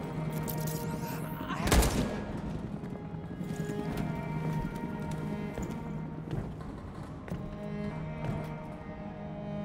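A single sharp gunshot cracks early on in Detroit: Become Human, then fades into a sustained rumbling background with scattered thuds.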